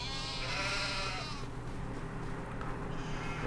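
Sheep in a sheep barn bleating faintly in a long wavering call, over a steady low background hum.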